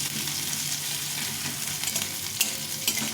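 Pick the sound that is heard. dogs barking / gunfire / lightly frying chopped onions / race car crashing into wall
lightly frying chopped onions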